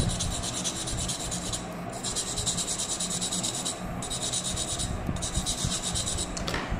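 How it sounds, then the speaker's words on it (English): A plastic part of a 1/60 scale Gundam model is sanded by hand with high grade sandpaper, giving a steady close raspy rubbing with brief pauses between strokes. "I'm going to take a sandpaper high grade sandpaper and just sand it down"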